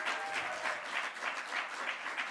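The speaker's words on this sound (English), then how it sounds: "Can we give them a massive round of applause," Audience applause at a poetry slam event, a steady wash of many hands clapping for a performer, sustained and fairly loud throughout with no voices over it.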